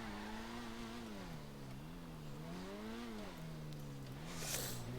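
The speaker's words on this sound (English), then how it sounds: "Of course, the standard Ferrari sound." A Grotti Furia, a Ferrari-style sports car in a video game, idles and revs, its engine note rising and falling in smooth waves, loud and close, with a brief sharp noise near the end.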